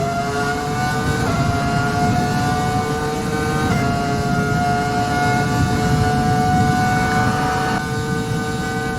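Ferrari F1-2000 Formula 1 car's V10 engine in the racing game F1 2020, a loud sustained high-pitched wail holding steady revs with brief shifts in pitch, close and continuous with no talking.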